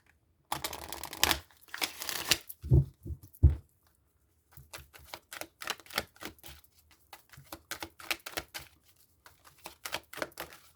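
Tarot cards riffled and shuffled in quick papery bursts, close by, with pauses between rounds and no talking.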